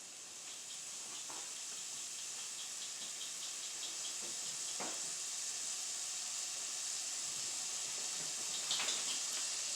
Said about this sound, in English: You can hear them just sizzling already.